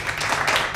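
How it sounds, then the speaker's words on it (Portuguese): Added applause sound effect, a brief burst of many hands clapping at moderate loudness, heard alone for under a second. "Por favor, edição, aplausos."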